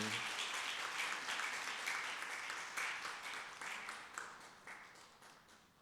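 Applause from a church congregation, many hands clapping steadily at moderate distance, fading gradually toward the end with no talk over it.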